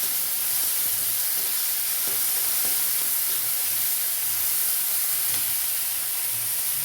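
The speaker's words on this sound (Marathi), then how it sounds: "आपण स्वच्छ धुवून घेतलेली कडवंची घालणार कडवंची आपण भाजून स्वच्छ धुवून घेतलेले आहे त्याच्यानंतर फोडणी टाकलेले आहे" Bitter gourd (kadvanchi) frying in a hot tempering, a loud, constant hiss and sizzle with steady steamy spray and faint stirring underneath, no voices.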